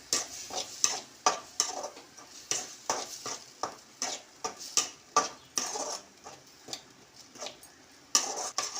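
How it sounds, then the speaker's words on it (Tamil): Ground tomato paste from two large tomatoes is stirred and sautéed in a pan for a raw-banana kola urundai kuzhambu, with a steady sizzle under repeated scraping strokes of a spoon against the pan, close up. "பச்சை வாசனை போகிற வரைக்கும் நல்லா வதக்கிக்கணும்"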